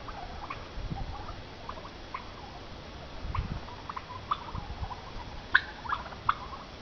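Turkeys in a pasture with goats make quiet, scattered gobbling and chirping calls against a soft outdoor background, with a few sharper calls toward the end.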